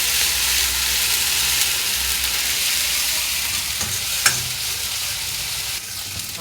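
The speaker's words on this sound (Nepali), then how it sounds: "हाम्रो मसला फ्राई हुँदैछ।" Masala spices fry for a homemade chicken gravy, a dense, steady sizzle with bright hiss that runs continuously, broken by one sharp clink of a utensil near the end.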